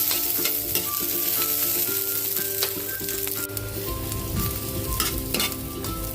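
Garlic and ginger sizzle in hot oil in a pan for chicken tinola, a steady close frying hiss with stirring clatter throughout and no talking.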